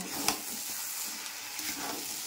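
Lote fish and potato pieces fry in a pan with coriander leaves, giving a steady close sizzle with scraping stir strokes throughout and no voices.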